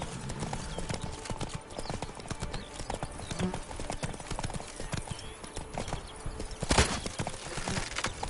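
Roach, a horse in the video game The Witcher 3, trotting with brisk, continuous hoof clip-clops, close and fairly loud over a steady ambient bed, with a brief louder burst near the end.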